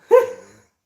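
Courage the dog gives a single short, close bark that is loud and clear, then falls silent.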